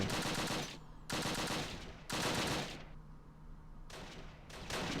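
Machine gun fire in the war game Close Combat Last Stand Arnhem, heard as several rapid bursts of about a second each with short gaps between them, fairly faint overall.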